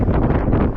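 Steady wind buffeting the microphone outdoors beside a 1960s Ford truck, a continuous low rumbling roar with fluttering gusts and no other sound.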